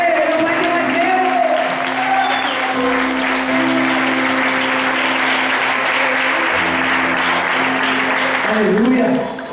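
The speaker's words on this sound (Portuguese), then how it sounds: "Dê um forte aplauso a ele" A church congregation applauding, sustained dense clapping from a large crowd indoors, with a held musical tone underneath and fading at the end.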